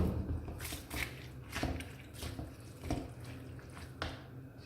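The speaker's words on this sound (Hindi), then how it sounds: "मैं इसे अच्छा सा मिक्स करूँगी" Minced meat (keema) is stirred with about two glasses of water in a pan for shami kabab, giving wet squelching and sloshing sounds in uneven strokes, close and fairly loud.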